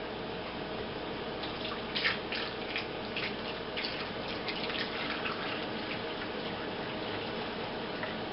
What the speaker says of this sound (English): Now you got a cup of water there, pour it in behind it